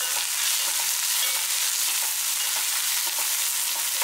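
Finely chopped small shallots sizzle steadily in hot oil for village-style tiffin sambar, a dense, even crackle that holds loud and close throughout with no voices.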